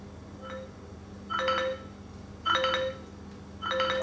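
An Android Wear smartwatch speaker plays a repeating electronic ringtone while setting media volume, short tonal bursts about once a second, clear and close with quiet gaps between.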